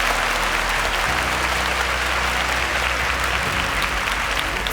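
A studio audience at a televised student science quiz competition claps steadily and evenly throughout, a dense wash of applause with a faint low hum underneath and no speech.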